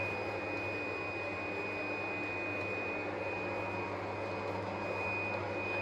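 A PFI Blade B2+ automatic cutting plotter creasing and cutting cards gives a steady, close mechanical hum and whir with a constant high whine, unchanging throughout with no voices.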